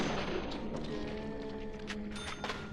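Pistol gunshots in the video game Deadly Premonition: a few quick shots with sharp attacks over a steady musical game soundtrack, moderately loud, with no talk.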